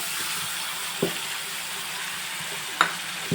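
Tomato puree cooks in oil with golden-browned ginger, garlic and chili paste for cashew curry, giving a steady close sizzle with a couple of light stirring clicks and no talk.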